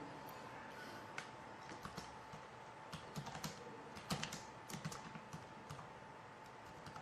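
Keys clatter on a computer keyboard while text is entered into an Excel spreadsheet, quiet irregular taps and short bursts over a faint steady hum, no voice.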